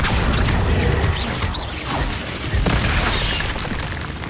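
A Confringo fire spell blasting during combat in the Hogwarts Legacy video game, a dense, loud burst with whooshing and crashing impacts over a continuous rumbling game soundscape.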